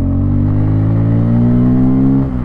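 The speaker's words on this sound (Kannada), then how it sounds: "ಎಕ್ಸಾಸ್ಟ್ ಮಾತ್ರ ಸಕ್ಕತ್ತಾಗಿ ಕೇಳ್ತಿದೆ." A 2024 Bajaj Pulsar N250 roadster motorcycle exhaust revs up close and loud, a rich rumbling drone rising slightly in pitch before easing off at the end, with no talking.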